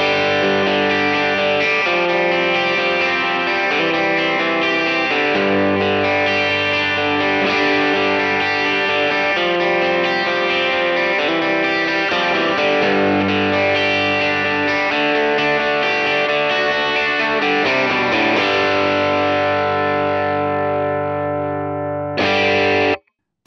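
An electric guitar plays through a RevivalDRIVE Compact amp recreation pedal with a UAFX OX Stomp, giving overdriven, sustained chords and notes that ring out loudly and steadily, ending in a sudden cutoff.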